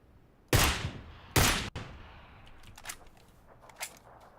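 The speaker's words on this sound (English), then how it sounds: "I see the guy shooting at me" Gunfire in PlayerUnknown's Battlegrounds: two loud, sharp shots about a second apart, then a string of fainter, more distant pops.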